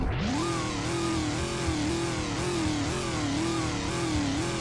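A 2013 Chevrolet Camaro with a supercharged engine revs steadily on its own, a loud, close, continuous engine note that rises and falls in repeated waves.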